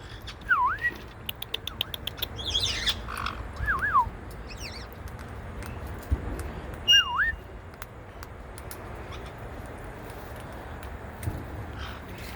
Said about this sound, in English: Look at those pretty birds, that pretty aviary.